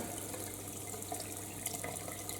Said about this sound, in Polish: Jeszcze puścimy ciepłą wodę